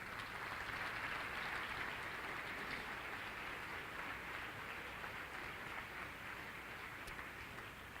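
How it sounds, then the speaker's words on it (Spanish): A church congregation applauds during a morning evangelism sermon, a soft, even patter of many hands clapping at a distance, steady and unbroken throughout. "Dale un aplauso al Señor esta mañana."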